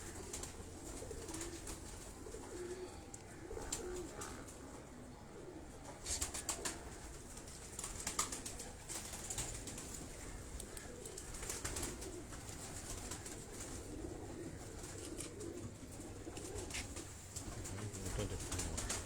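Pigeons coo softly and repeatedly at a low level, with occasional rustles and light flutters among the birds.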